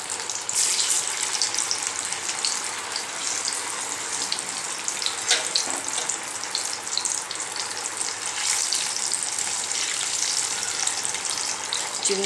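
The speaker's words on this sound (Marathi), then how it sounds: "आपल्या भाज्या तळून होत आहेत मंडळी" Undhiyu vegetables deep-fry in hot oil with a loud, dense, continuous bubbling sizzle that holds steady from start to finish, with no talk over it.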